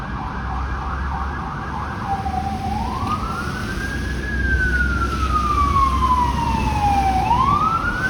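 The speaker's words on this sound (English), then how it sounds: "Oh, there's a fire truck responding." A loud fire truck siren wails, its pitch rising and falling in long sweeps over steady road rumble that grows louder as the vehicle nears, on a snowy Toronto street.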